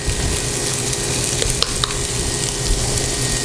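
Onions, carrots and garlic sautéing together in a pot, a dense continuous sizzle with a couple of faint utensil knocks, near and steady throughout.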